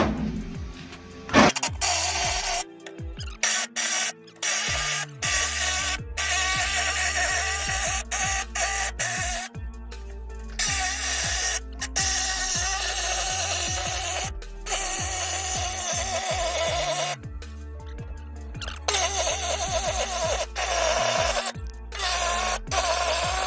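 A Sawzall reciprocating saw cuts across the back cab wall of a minitruck during a convertible conversion: a loud, harsh, continuous buzzing rasp with rhythmic vibration, broken by several short pauses between cutting runs.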